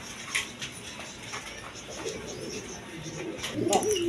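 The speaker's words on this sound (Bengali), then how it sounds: "এখানে একবার কালারিং রাজগোল্লা কবুতর আছে দেখেন" Colored Raj Golla pigeons coo softly in a low, throaty murmur beneath a busy mix of other birds chirping, swelling somewhat louder near the end.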